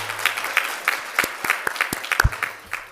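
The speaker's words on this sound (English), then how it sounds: "that deserves a little applause" Audience applause at an author talk, a sparse patter of individual claps from a modest crowd, fairly close and settling after a few seconds.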